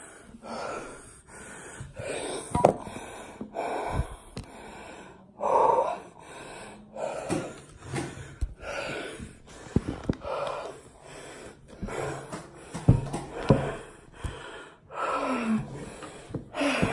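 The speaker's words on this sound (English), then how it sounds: "Let's see her out of breath." Heavy, labored breathing of a woman out of breath, with repeated gasps and wheezy inhales and exhales in an uneven rhythm, close and fairly quiet, with no talking.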